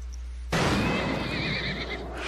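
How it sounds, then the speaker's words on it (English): A horse in Metal Gear Solid: Peace Walker lets out a loud, wavering whinny that bursts in abruptly after a near-silent moment and trails off over about two seconds against game background noise. "Oh, is it her horse?"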